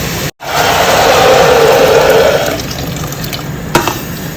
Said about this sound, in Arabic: طبعا اضيف عليهم مويه مغليه